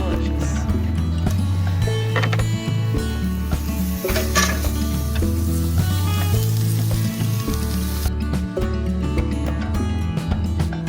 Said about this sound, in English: that sizzle.